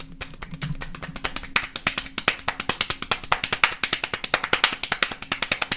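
One person claps extremely fast, a dense rapid-fire train of sharp close claps that speeds up into an almost continuous rattle, about nine or ten per second, with no talk.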